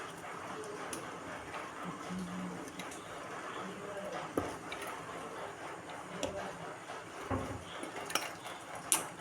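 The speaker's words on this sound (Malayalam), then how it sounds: "നമ്മളിതിങ്ങനെ ഒന്ന് ഇളക്കി കൊടുക്കുക" Soup being stirred in a cooking pot, with chicken pieces to be added: light utensil scrapes and clinks against the pot, steady and close, with a voice talking over it throughout.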